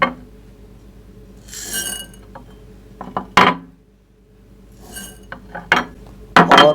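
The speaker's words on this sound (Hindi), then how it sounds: "ये तमाम मटेरियल आप मिक्स कर लें" Dry lovebird soft-food ingredients are stirred together in a bowl: intermittent bursts of gritty rattling and scraping, with sharp clinks of a utensil against the dish, close by and separated by short quiet gaps.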